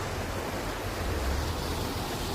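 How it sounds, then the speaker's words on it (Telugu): Water rushes steadily through drainage pipes laid beneath a highway under construction, a dense, even roar of flowing water with no pauses and no voices. "అయితే ఫ్లో ఎంత ఇదిగా పోతున్నాయి నీళ్ళు."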